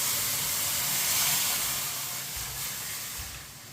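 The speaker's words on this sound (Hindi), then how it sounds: "दूध डाल लेंगे।" Creamy full-fat milk poured into a hot pan while making sweet seviyan, a loud continuous hissing rush that eases off slightly toward the end.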